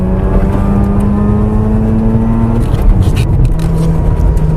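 A warmed-up Mazda RX8 rotary engine pulls hard while driving on a road, a loud, steady, buzzy drone that climbs in pitch as the car accelerates, then shifts and continues.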